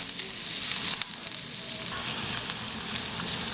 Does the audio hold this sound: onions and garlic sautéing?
yes